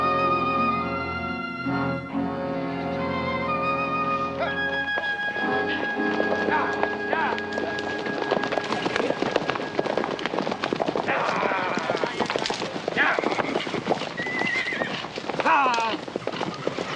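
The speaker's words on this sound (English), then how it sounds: "Let's get the rest of the horses." Several horses on a western ranch neigh and whinny near the start, then hooves clip-clop busily over ground as the animals move, loud and close, with voices talking over the scene.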